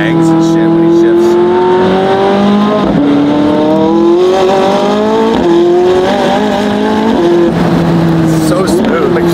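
A loud McLaren supercar engine with a DCT gearbox drones and shifts pitch through gear changes, with exhaust bangs on shifts and a voice talking over it throughout.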